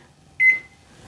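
An oven timer gives a single short electronic beep as it is set to 15 minutes, clear and close, with quiet room tone before and after.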